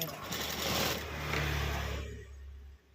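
A tailoring sewing machine runs steadily while stitching a hemming strip, a close whirring motor hum for about two seconds before it slows and stops.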